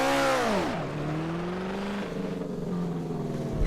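A car engine in the Assetto Corsa racing game drops sharply from high revs under engine braking, then holds a steady mid-range drone with fluctuating throttle, loud and continuous with no talk.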